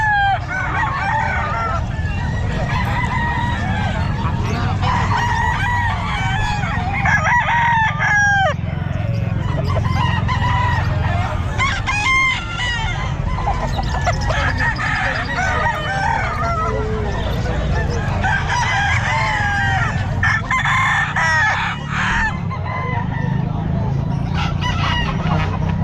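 Stag roosters crow repeatedly and cluck at a busy pet market in Calumpit, loud and close, with several birds overlapping over a constant crowd murmur and occasional speech.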